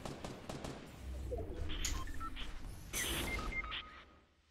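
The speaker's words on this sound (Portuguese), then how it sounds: "Ele tá errando todos os tiros." Gunfire in the video game Fortnite: bursts of sharp shots and impacts crackle through a busy battle mix at moderate volume, with a louder cluster of shots near the end.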